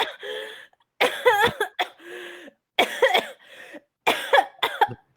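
A voice imitates someone in a nearby cell coughing and gagging while retching up worms: several harsh, close cough bursts in uneven clusters, separated by short silences.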